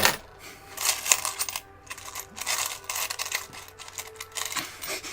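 Quarters dropping and clinking one after another onto a surface, a series of bright metallic jingles and taps at irregular intervals, close and moderately quiet with no talking.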